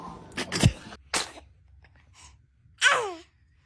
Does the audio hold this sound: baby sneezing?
yes